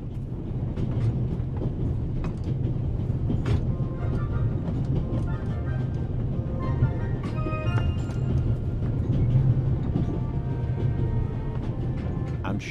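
Train carriage rattling along in The Raven Remastered game, a steady low rumbling drone with faint clicks and rattles, continuous and fairly loud throughout, with background music tones and light speech-like sounds above it.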